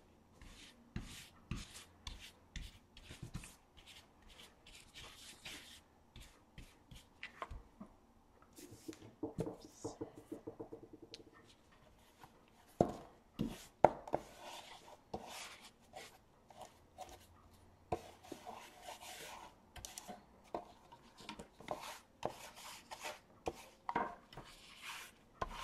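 Gilding is rubbed off over Cricut vinyl by hand, producing faint, intermittent scratchy rubbing strokes in short bursts, close and quiet, with occasional louder taps and handling noises.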